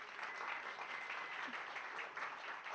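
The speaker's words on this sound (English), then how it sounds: "So give them a round of applause." Audience applause at an entrepreneur event, a continuous, even roar of clapping from a sizable crowd lasting the whole few seconds.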